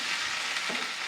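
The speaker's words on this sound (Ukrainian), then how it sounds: "Не забуваємо помішувати цибулю." Steady sizzling of onions frying in a pan, with a brief scraping stir partway through; close and continuous.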